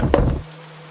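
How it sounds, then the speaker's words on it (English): Single dull knock on a wooden cabin door, heard as a short close thud that dies away quickly into silence, as part of a horror story. "Another knock."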